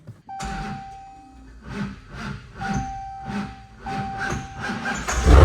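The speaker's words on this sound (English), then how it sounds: "whenever I drive it hard, it cranks really slow" Hellcat HEMI engine cranking slowly on a hot restart, the starter labouring through around six sluggish, uneven turns with a whining tone before the engine catches and roars up loud at the end.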